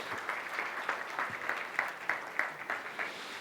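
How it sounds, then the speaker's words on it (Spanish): A room full of people claps steadily, moderate and slightly distant, with individual claps blending into an even patter. "Démosles un aplauso a nuestros actores"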